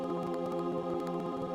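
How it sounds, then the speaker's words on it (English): A dry synth choir patch built in Fruity LSD holds a thick sustained chord with no effects, steady and continuous with a faint rhythmic pulse underneath. "what we have here is a choir synth made completely from Fruity LSD."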